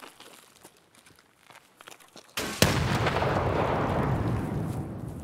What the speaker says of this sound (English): I'm gonna toss a nade up and just see if we get some okay.